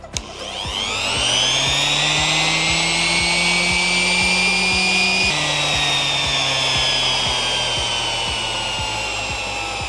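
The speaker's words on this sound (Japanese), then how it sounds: "ただし回転力がやっぱり上がっているせいで少しポリッシャー自体が暴れやすくなっているんですよね" A modified budget home-center RSE-1250 polisher runs loud and close, its motor whine rising as it spins up and holding a steady high drone with a slight pitch shift midway, then easing slightly toward the end.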